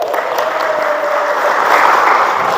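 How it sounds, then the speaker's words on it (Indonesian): Seminar crowd of church members applauds the church elders, a full, steady roar of clapping hands that stays loud and even across the whole moment, with a faint tonal hum beneath. "Tepuk tangan untuk amang perhalado."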